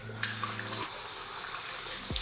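Warm water runs from a tap into a sink to wet a head before shaving, a steady close splash with a brief hum at the start and a short squeak near the end, with no talk.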